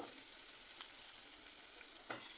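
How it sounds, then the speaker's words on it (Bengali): Chicken pieces fry in a pan of hot oil, a continuous bright sizzle with a couple of soft scraping stirs, close and alone. "চিকেনটাকে খুব সুন্দর করে আমি একটু ভেজে নেব"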